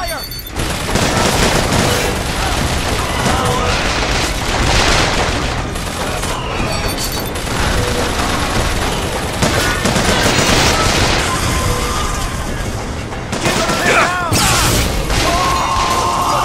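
Enemies opening fire in Bioshock Infinite, producing a loud, sustained barrage of overlapping gunshots, booms and crashing impacts that runs for many seconds with hardly a pause, mixed with game voices and mechanical clatter.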